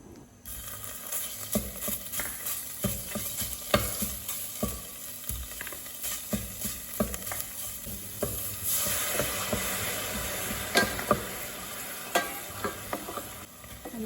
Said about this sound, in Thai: ใส่น้ำมันแล้วก็น้ำกะทินิดหน่อยนะคะผัด ผัดจนเครื่องแกงเราหอมนะ